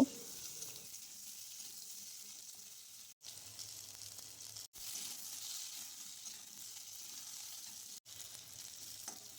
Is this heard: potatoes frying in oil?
yes